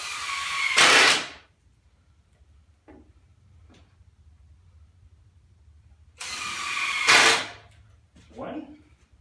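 A power drill drives screws into a wooden leg of a 4x8 model railroad benchwork table, two loud whirring bursts several seconds apart with faint clicks and handling noise between them.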